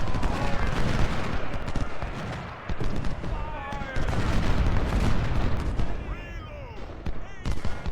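Continuous game battle din of Civil War artillery and rifle fire from Ultimate General: Civil War at the Battle of Malvern Hill, dense overlapping booms and volleys throughout, with a voice talking over it.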